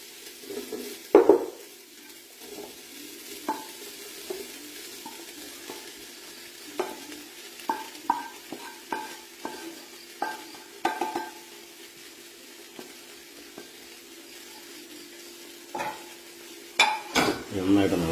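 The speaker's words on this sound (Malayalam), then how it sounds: "നമുക്ക് ഇതിനകത്തേക്ക് ഫ്രൈ ചെയ്ത സോയയും കൂടെ ചേർത്ത് കൊടുക്കാം" Fried soya chunks being stirred in a pan while cooking, with scattered scrapes and clinks of a utensil against the metal over a faint sizzle, louder knocks near the start and end.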